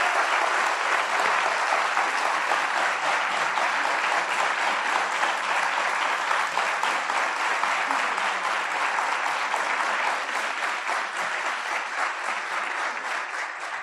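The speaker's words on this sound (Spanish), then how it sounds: "Gracias, Manuel. Un aplauso." An audience at a YSF Argentina talk on educational transformation applauds after Manuel Alvarez Trongé finishes speaking. The clapping is thick, continuous and loud and holds steady until it thins slightly near the end.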